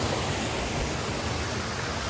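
A mountain brook flows under an ice bridge beside a hiking trail on the Basin Cascade Trail in winter, a steady broadband rush of water heard alone and evenly throughout.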